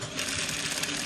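A sewing machine stitching seams on rope trousers, a steady fast mechanical whir and rattle running throughout, close and loud with no talk.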